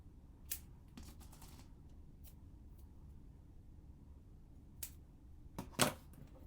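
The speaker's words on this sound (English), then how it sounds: "let's just cut up some thin 3D foam here" Thin 3D craft foam being cut produces a few sharp, isolated snipping clicks spaced irregularly over a quiet, low hum, with a quick cluster of cuts near the end.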